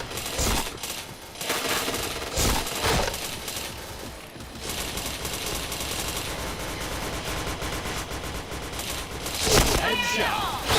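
Gunfire crackles in rapid bursts and fusillades throughout a shooter match, with sharp metallic impacts and clinking casings, dense and loud with no pause.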